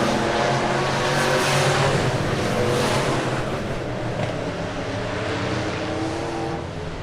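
Super stock race cars roar around the oval at Lebanon Midway Speedway, a loud, steady wall of engine noise with rising and falling revs as the pack passes, no voices over it.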